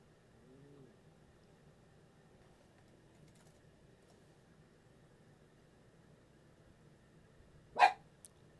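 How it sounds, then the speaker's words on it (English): Riku, a pet dog, lets out one sharp bark that stands out against a quiet room with a faint steady hiss. A small softer sound follows just after it. "Sit. Stop barking."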